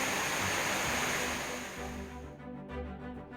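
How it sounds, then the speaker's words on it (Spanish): Water of the Juan Lopitos creek rushes in a dense, continuous wash on a rural farm in Colombia, loud at first, then thinning and dropping off near the end. "El sonido del agua arrulla a quienes pasan las noches allí gracias a que por la finca pasa la quebrada Juan Lopitos."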